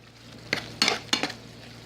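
Ground turkey burgers frying in a pan and being chopped up with a utensil, three or four scraping knocks against the pan over a soft sizzle.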